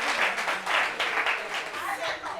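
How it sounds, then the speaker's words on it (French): Audience applause at a gathering, a moderate, fairly faint patter of clapping in uneven bursts that runs under a voice. "Applaudissements pour ça"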